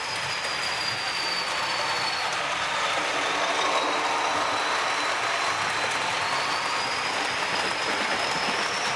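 A Bachmann Class 40 model diesel locomotive, number 40142, runs past with DCC sound, giving a steady loud engine roar and rail rumble with a faint high whistle-like whine throughout, with no talking.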